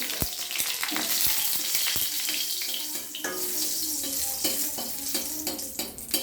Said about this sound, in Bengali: 3টা শুকনো লঙ্কা ফোড়নে